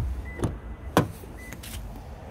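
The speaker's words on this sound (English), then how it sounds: "Front and rear electric windows" Electric windows on a Toyota Auris Luna Sport whirring briefly, a few short motor bursts with clicks, close and fairly clear in a quiet car cabin.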